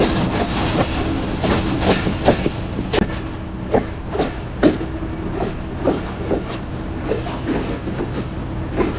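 Train running on rails on a route toward Natore and Rajshahi in Bangladesh, a steady rumble with repeated clickety-clack wheel beats through the carriage, close and continuous without talk.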